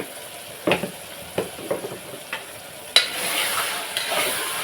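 Ginger-garlic paste fries in a pan for a farm chicken curry, a low sizzle punctuated by a series of spoon taps and scrapes, then a sharp clank and a louder steady hiss; no speech.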